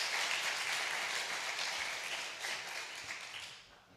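A church congregation at a Wednesday night worship service applauds in a steady, dense wash of clapping that holds for several seconds and then fades at the end.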